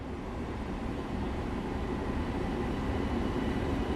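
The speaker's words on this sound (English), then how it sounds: "There's the other train on the route over there" An M7A commuter train rolls past on the Harlem line out of Grand Central in the Train Sim World 2 game, a steady, dense rumble of wheels and motors that holds at an even level throughout.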